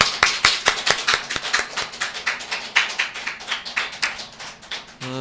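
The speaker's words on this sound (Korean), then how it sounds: "박수." A church congregation applauds in a steady run of sharp claps that gradually thins out, ending in a brief tonal sound.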